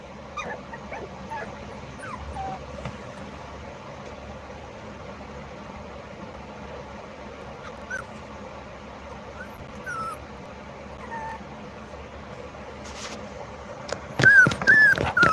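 A mother dog and her puppy make soft, scattered whimpers and yips over a low, steady background hum, quiet through most of the stretch before a louder burst of yelping near the end.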